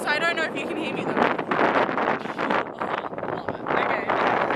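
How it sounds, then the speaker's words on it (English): Strong wind buffets a microphone outdoors on grass near the beach, a steady loud roar with gusty surges throughout and a brief voice at the start. "Very windy, so I don't know if you can hear me though."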